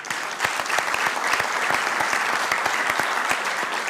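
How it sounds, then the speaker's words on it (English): An audience at a city council special meeting breaks into a round of applause, a steady, full wash of many hands clapping close by, with sharp individual claps standing out through the crowd sound. "Give yourselves a round of applause"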